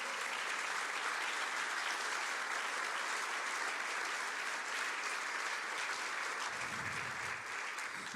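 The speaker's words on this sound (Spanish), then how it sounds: "Le da un aplauso ahí al Señor." A church congregation applauds during a sermon, sustained even clapping filling the room for several seconds, with a brief low sound near the end.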